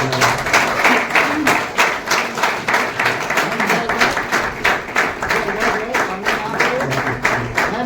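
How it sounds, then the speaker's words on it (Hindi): Wedding guests clap at a Christian wedding ceremony, a loud, steady and somewhat rhythmic round of many hands with a faint murmur of voices underneath. "तालियों को बजाएंगे आप सामने।"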